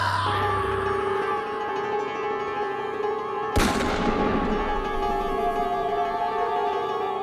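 A single sharp gunshot cracks out midway over a low, sustained musical drone that continues throughout.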